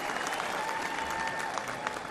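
A convention crowd applauds at the 2024 Republican National Convention after a speech by Ted Cruz. The clapping is brief, fairly faint and distant, heard as a steady wash with a faint sustained tone running under it.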